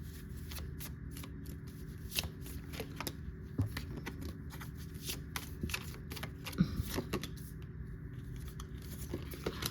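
Playing cards are shuffled close by, a steady run of soft riffling and flicking clicks that repeat irregularly over a quiet background, with no talking.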